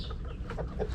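Rhode Island Red hens in a backyard coop cluck in soft, irregular bursts close by, over a steady low background hum.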